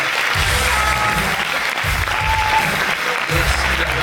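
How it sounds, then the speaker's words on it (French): An audience at a film festival closing ceremony in Dinard applauds in a sustained, even wash of clapping, with a voice briefly sounding through it. "Merci d'applaudir Agnès."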